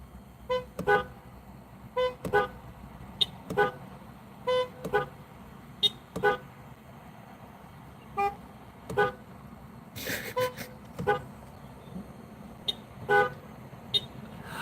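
Car horns beep repeatedly in short bursts, some paired, spaced irregularly over a quiet background of distant traffic, with voices talking faintly between the toots.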